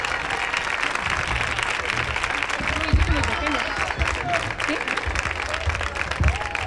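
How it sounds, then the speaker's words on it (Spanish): Strong applause from a crowd welcoming the speaker who opens a neighbourhood festival in Spain, sustained clapping with cheers and chatter mixed in over the whole stretch. "que recibáis con un fortísimo aplauso a nuestra pregonera de este año, a Marisa, y vecina del barrio."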